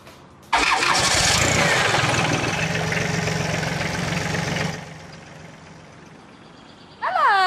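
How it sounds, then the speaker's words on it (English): A farm tractor's engine cranks and catches on a country smallholding in West Wales, then runs loud and steady with a rough, knocking idle before dropping to a quieter rumble. "tractor is now fully operational"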